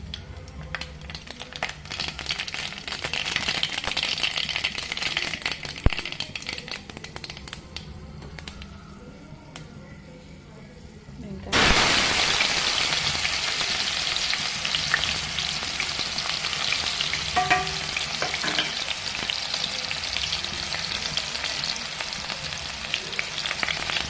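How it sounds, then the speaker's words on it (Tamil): Mustard seeds dropped into hot oil for beetroot poriyal, with a quieter crackle at first and then a sudden loud, dense, continuous sizzle and popping that carries on close up. "எண்ணெய் காஞ்சிடுச்சு. இப்போ கடுகு போட்டுக்கலாம்."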